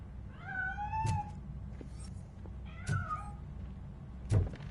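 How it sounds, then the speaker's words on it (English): A cat meows in the RoboCop video game, three short separate meows spaced a second or so apart, each ending in a soft thud, over a quiet low background hum. "That cat must be hiding inside."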